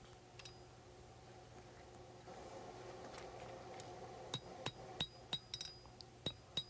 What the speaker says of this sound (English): Now I'm going to use my cross peen hammer and start working in the finger choil